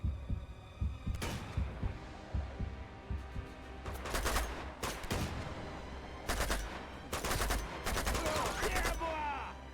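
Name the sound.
gunfire in the video game Uncharted 2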